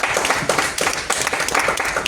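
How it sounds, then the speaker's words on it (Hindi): A seminar audience claps for a speaker, giving dense, moderately loud applause with overlapping hand claps throughout. "ताली होनी चाहिए एक बार सर के लिए"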